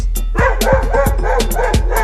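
Several dogs bark in quick repeated yaps, loud and close, with a steady low hum running underneath.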